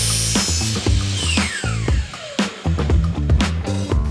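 Hand ratchet tightening a fastener while a planter is assembled, giving quick repeated clicking bursts up close, with a faint rising whine sweeping through partway.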